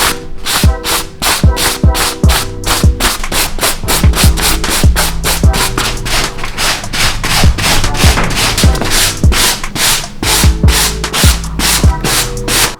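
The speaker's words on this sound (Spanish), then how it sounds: "Ahora con una lija muy fina vamos a pasar por estas zonas" Steady, rhythmic scratchy strokes of fine 400-grit sandpaper rubbed back and forth on jacket fabric, loud and close, repeating throughout with music playing underneath.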